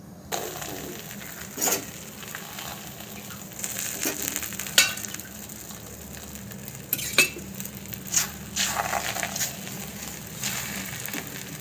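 A potato paratha fries in oil on a hot tawa, a soft continuous sizzle broken by several sharp scraping and clinking spatula strokes, no talk.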